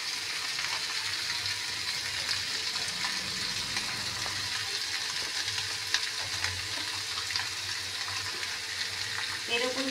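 Chopped onion sizzling steadily in a hot pan, a bright, even hiss lasting throughout with occasional faint clinks near the end, and no talking over it.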